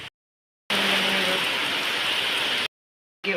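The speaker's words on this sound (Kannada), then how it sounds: "ಮಳೆ ಹೊರಗೆ ಕಾಲಿಡ್ಲಿಕ್ಕೆ ಆಗ್ತಾಯಿಲ್ಲ ಅಷ್ಟು ಮಳೆ ಬರ್ತಾ ಇದೆ" Heavy rain pours in a dense, loud, steady hiss, abruptly starting and stopping, with no voices.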